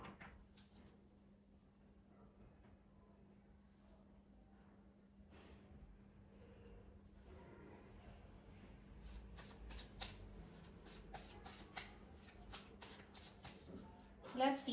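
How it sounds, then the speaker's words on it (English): Osho Zen Tarot cards being shuffled and drawn close up, soft riffling and sliding at first, then a quicker run of crisp card flicks, faint and with no talking. "let me draw 3 more cards from Osho Zen Tarot"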